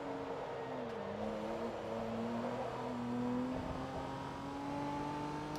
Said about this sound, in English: Tire sounds, engine, rumble strips, like, the whole sound design of this game is fantastic.